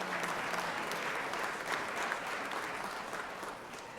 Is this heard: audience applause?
yes